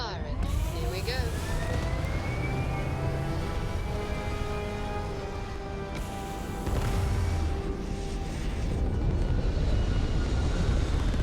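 Spaceship engines firing at takeoff in Starfield, a loud continuous roar with rising whining tones that swells and stays dense throughout.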